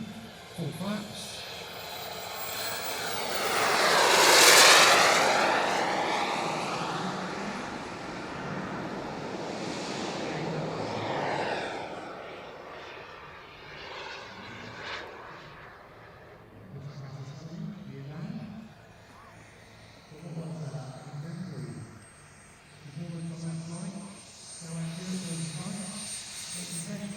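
Elite Aerosports Havoc RC jets make a low, slow pass down the flight line at Weston Park with full flaps. The turbine roar swells to a loud peak and then fades under a commentator talking over the PA.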